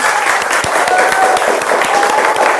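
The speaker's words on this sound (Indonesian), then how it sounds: "Tepuk tangan semuanya." A school class applauds together at the end of a lesson, brisk loud clapping from many students in a classroom, dense and steady throughout.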